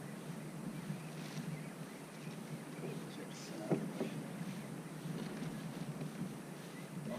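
A boat motor hums steadily in the distance over water and wind noise, with faint voices in the background.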